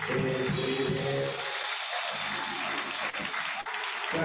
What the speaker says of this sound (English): while you're standing, clap your hands one more time.